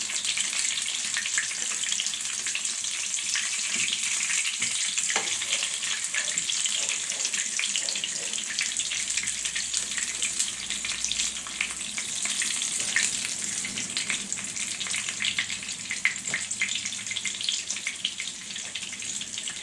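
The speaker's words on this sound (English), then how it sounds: "fry for a while before we flip it over to the other side" Breakfast fries in a pan with a loud, unbroken hiss of sizzling oil that lasts the whole stretch, dotted with faint crackles and light stirring.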